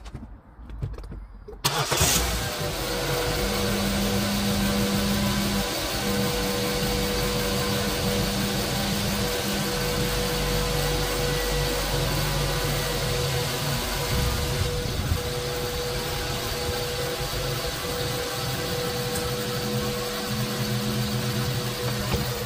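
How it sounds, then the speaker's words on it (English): A Mazda 3 engine cranks and starts after brief quiet, then idles steadily and close with a constant mid-pitched hum for the rest of the stretch. "Start engine and then we check if all the lights are working."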